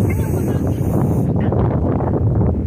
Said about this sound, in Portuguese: Olha o som do vento.